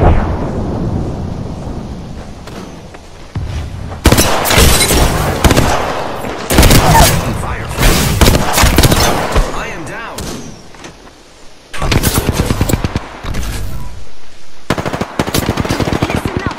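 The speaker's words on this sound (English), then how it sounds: "Listen up, I'm getting shot at." Rapid automatic gunfire from the Apex Legends video game comes in loud, dense bursts with short gaps between them, along with sharp impacts and heavy booms.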